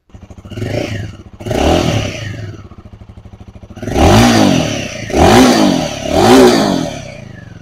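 A liquid-cooled engine on a 2023 Royal Enfield Himalayan motorcycle runs close by, idling with a steady throb and then revving up in three strong surges with mechanical clatter.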